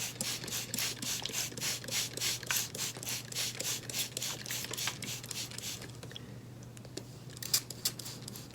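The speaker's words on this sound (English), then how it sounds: "So I'll spray a little bit more." A spray bottle squirts water onto seed-planting soil over and over in quick, close spritzes with a steady rhythm, thinning out to a few scattered sprays toward the end.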